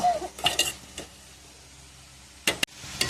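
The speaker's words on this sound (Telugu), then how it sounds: "ఇలా దోసకాయ ముక్కలను మొత్తాన్ని వేసి బాగా కలుపుకొని మూత పెట్టి మగ్గించుకోవాలి." Cucumber pieces being stirred in a pan for a village-style curry, with a few brief scraping clinks of a spoon against the pan separated by a quiet stretch.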